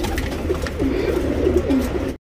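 A tournament pigeon in Bangalore coos close to the microphone, a few soft throaty rolling calls over a low steady background hum, ending abruptly.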